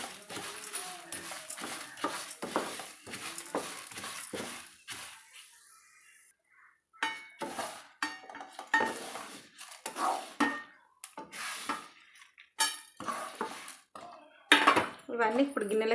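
Fried ingredients for an old-style nalleru chutney scraped and tipped from a pan into a bowl, repeated metallic clinks and scraping of utensil on cookware in irregular bursts with a brief pause midway.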